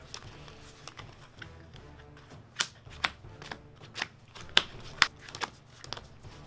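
A deck of trading cards is shuffled during a card game, a series of sharp riffling snaps and crisp clicks close up, irregularly spaced and growing louder toward the end.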